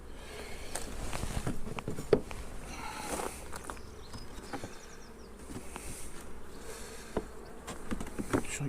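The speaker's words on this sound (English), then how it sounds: "get all the bees off here." Honeybees from a back garden hive buzz steadily and close, a dense droning swarm with scattered bumps and taps as frames are handled, and no talk.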